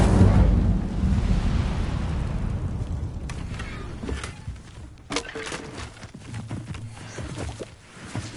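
Incendio fire spell cast in Hogwarts Legacy, a loud rumbling whoosh of flame that swells at the start and then trails off into crackling bursts and scattered pops.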